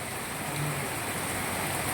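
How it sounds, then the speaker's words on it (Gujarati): Heavy monsoon rain pouring down in Moti Gop, Gujarat, a dense unbroken roar of falling water, loud and even throughout with no voices. "વરસાદે ગતિ ખૂબ પકડી લીધી જો ભાઈ"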